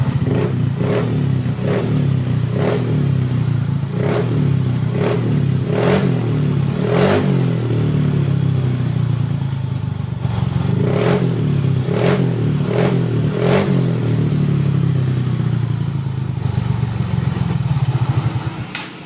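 A motorcycle engine is held at high RPM, a steady loud drone punctuated by repeated sharp clattering pulses throughout, heard close with no talk.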